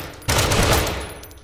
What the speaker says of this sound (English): Pull the trigger to fire your rifle at the target.